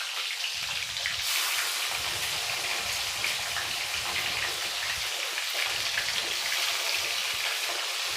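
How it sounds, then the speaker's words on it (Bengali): Bhetki fish bones frying in hot oil in a kadai, a loud continuous crackling sizzle with fine spattering pops, steady from start to finish with no voices. "এবার আমি এর মধ্যে এক এক করে ভেটকির কাঁটাগুলো দিয়ে ভালো করে ভেজে নেব।"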